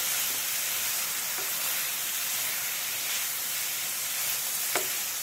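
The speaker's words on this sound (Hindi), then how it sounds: "इसे हमें 15 मिनट लगे तकरीबन चलाते हुए ड्राई होने में" Fresh coconut laddu mixture stirred in a hot pan while it dries, giving a steady soft sizzle and hiss that stays even and close throughout, with one brief scrape or clink near the end and no talk.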